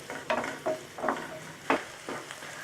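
Chopped shallots fry in oil in a pan for Chettinad chicken chukka, and a spatula stirs them in a few soft, evenly spaced strokes over a low, steady sizzle.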